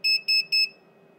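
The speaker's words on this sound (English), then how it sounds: "It's beeped as though it's locked onto the voltage because it's an auto hold" A Vichy VC8145 bench multimeter in auto hold mode gives three short, evenly spaced high-pitched beeps in quick succession, then goes quiet apart from faint background hum.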